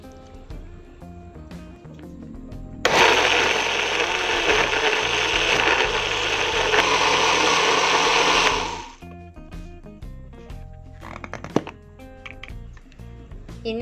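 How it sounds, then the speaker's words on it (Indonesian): A blender whirs loudly for about six seconds blending spices with a little water, starting abruptly and stopping, with quieter kitchen clatter before and after. "Kita tambahkan sedikit air untuk memblender."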